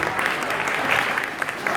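A short burst of steady audience clapping at a live concert, moderately loud and dense, with no voices over it.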